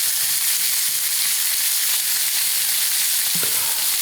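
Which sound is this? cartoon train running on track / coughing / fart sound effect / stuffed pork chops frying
stuffed pork chops frying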